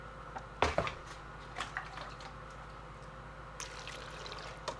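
Water is poured into a container while making banana brew for feeding flowers, with a splash at the start followed by a few faint drips and small sloshes, quiet and close.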